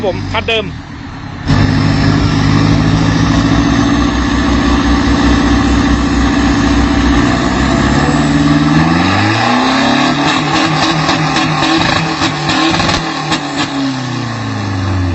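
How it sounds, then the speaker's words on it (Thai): A remapped 1.9-litre turbo pickup with a size-42 turbo and stock intercooler revs hard, holding a loud steady drone before the pitch swings up and down through repeated blips, with the blow-off valve venting, while someone talks over it. "เดี๋ยวเรามาฟังเสียงปราตัดกันดูว่าเป็นยังไง"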